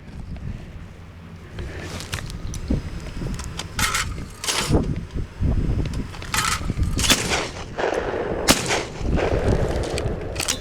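Shotgun blasts ring out at clays flung from a Do-All Flyway 80 trap thrower, several sharp loud reports spaced a second or two apart over gusty outdoor wind noise.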